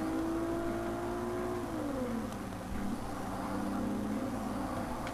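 A Toyota Supra Mark 1 races in Forza Motorsport 4, its engine droning loud and steady, the pitch sliding down as it shifts or brakes, then holding an even tone under a constant whir.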